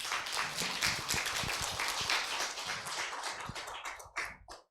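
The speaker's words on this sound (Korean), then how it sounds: "큰 환영의 박수 부탁드립니다" An audience at a philosophy lecture forum claps to welcome a professor to the podium, with dense applause that thins out into scattered claps before stopping.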